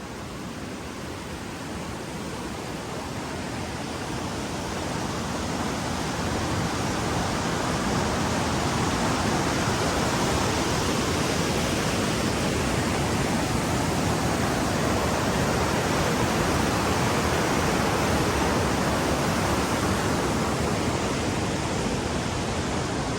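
Steady, loud rush of Fish Creek flowing beside the Lakeshore Trail near Lake Chelan, a continuous broadband roar that swells slightly in the first seconds and then holds even, with no voices.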